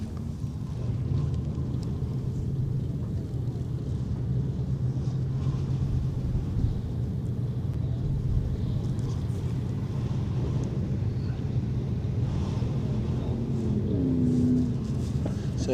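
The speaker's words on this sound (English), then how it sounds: "GBM out the back, turning the tyres, kicking up the dust" A motorkhana car spins its tyres on dirt, kicking up dust, heard as a distant, steady engine roar with wheelspin rumble blending into wind noise on the microphone.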